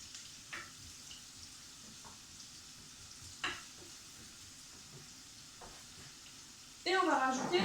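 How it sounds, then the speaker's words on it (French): Onions and garlic fry in a pan for an Indian dish, giving a steady soft sizzle with a few faint clinks. A louder burst of hissing comes near the end. "bien mijoter jusqu'à que les oignons soient translucides."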